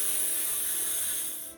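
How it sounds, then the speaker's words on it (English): A single continuous spray of cooking spray hisses from a nearby aerosol can onto a baking pan for about a second and a half, then tapers off. "Spray that pan."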